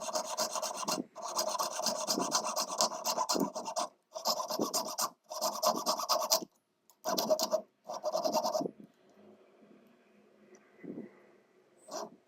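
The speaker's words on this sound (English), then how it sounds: "Using the needle file, I'm filing off the sides so it will be very flat for them to be soldered later." Needle file rasping back and forth across twisted jewelry wire, filing the sides flat before soldering; close, in bursts of steady strokes separated by short pauses, then fading to quiet handling.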